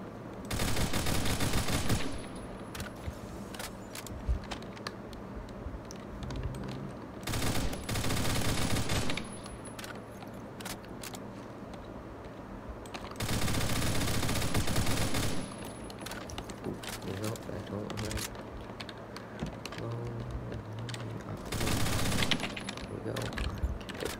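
Gunfire in the online shooter game Phantom Forces, with dense bursts of automatic fire and single shots in several loud clusters over a steady background of game ambience.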